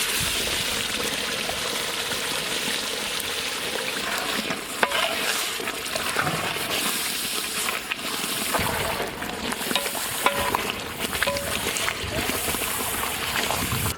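Ginger garlic paste hitting a hot pan for paneer butter masala, a continuous loud sizzle and splutter with scraping stirring throughout.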